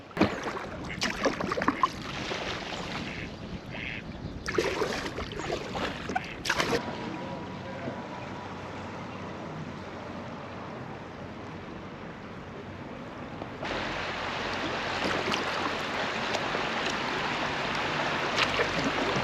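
A kayak paddles out of town into rural water on a calm day, with soft rhythmic paddle dips and water swishing close by and a few brief knocks early on.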